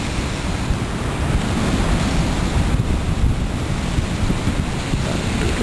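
Sea waves breaking on the shore at Newbiggin-by-the-Sea, a steady loud wash of surf with wind buffeting the microphone throughout, no voices.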